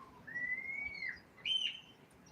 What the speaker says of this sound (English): It's a starling.